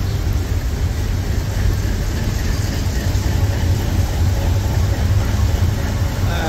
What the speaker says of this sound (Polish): kolejka przejeżdża. To chyba towarowa jest, nie?